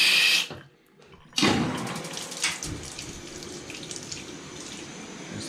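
Tap water gushing at strong pressure after a well pump replacement, a steady broad rush that starts abruptly after a brief hiss and pause, close and loud with no talk.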